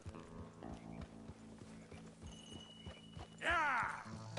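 Horses in the video game Red Dead Redemption II thud along in a steady rhythmic hoofbeat, ending with a loud neigh near the close.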